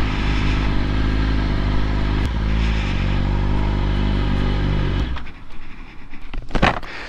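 A 2019 Yamaha R6 600cc sport bike rides with a loud, steady engine drone that cuts off abruptly partway through, followed by quieter wind noise and clatter.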